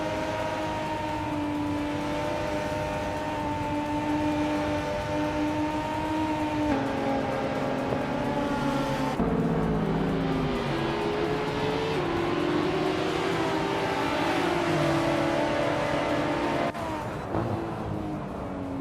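Alpine A110 (2018) race car engines in a racing video game, a steady loud droning whine with shifting pitch as the car shifts gears, continuous throughout with no talk.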